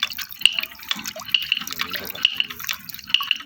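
Water drips and trickles from a handmade wooden water wheel, with bright irregular drops and splashes over a low running flow, close by and without talk.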